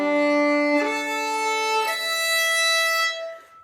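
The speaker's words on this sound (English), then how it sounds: "The strings on the violin sound like this." Violin strings bowed in a sustained, rich melodic line of a few connected notes, loud and close, with no talking.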